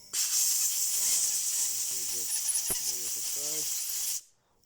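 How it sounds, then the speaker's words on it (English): Compressed air hisses steadily to blow clean the carburetor of a Husqvarna 353 chainsaw, a loud close continuous blast that stops abruptly, with someone talking underneath. "Blow this thing so you get it clean."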